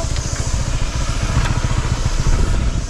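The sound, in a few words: motorbike passing on a street in Phuket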